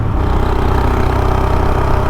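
Engine of a 2019 Royal Enfield Himalayan motorcycle ridden along country lanes, a steady low thumping drone at constant revs, close and fairly loud throughout the short stretch.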